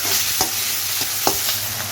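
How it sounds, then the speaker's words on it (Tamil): Tomatoes sautéing with salt in a pan, a close, steady sizzle broken by a few sharp scrapes and taps of a spoon stirring, with no voices. "உப்பு போட்டு வதங்கினாக்கா தக்காளி நல்லா வதங்கும்"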